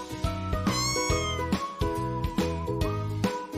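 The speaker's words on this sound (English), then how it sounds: "Look who's here. It's the cat." A cat meows over a steady musical backing with rhythmic beats, several short meows standing out clearly near the start.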